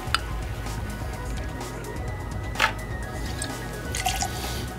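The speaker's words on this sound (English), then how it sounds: "I'm then going to pour in the Saint Germain." St-Germain elderflower liqueur poured into a cocktail glass, about half an ounce, giving soft liquid trickles and drips with a couple of light glass clinks, close and alone without talk.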